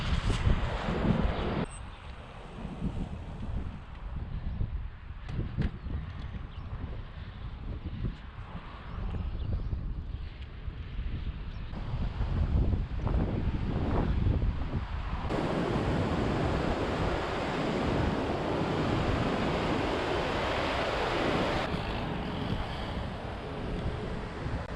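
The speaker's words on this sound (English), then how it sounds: "And it appears we have some whitewater kayaking action here." Whitewater rapids rush through downtown Bend, Oregon, a steady broadband roar of churning water blended with gusty wind buffeting the microphone, continuous and fairly close throughout.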